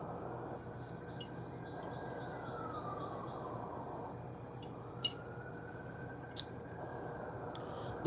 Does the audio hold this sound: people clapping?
no